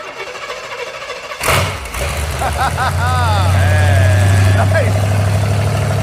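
An old V8 hooptie truck cranks with a sharp burst and catches, then settles into a steady, fairly quiet idle that fills the rest of the clip, with people talking close by over the running engine.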